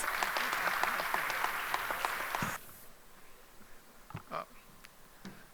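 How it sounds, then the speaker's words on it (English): Warm audience applause at an opening plenary of a technology conference, dense steady clapping that fills the hall for about two and a half seconds, then cuts off to a quiet room with a few faint stray claps. "Let's give him a warm round of applause."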